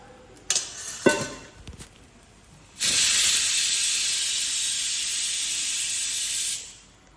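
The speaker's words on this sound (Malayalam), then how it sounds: "ഗ്രീൻ പീസ് വേവിച്ചാൽ വെച്ചിരിക്കുന്നത് അതാണ് കുക്കറിൻ്റെ കൂക്കലങ്ങൾ കേൾക്കുന്നത്" A pressure cooker lets out a loud, steady hiss of escaping steam lasting several seconds, preceded by a few clinks of kitchenware.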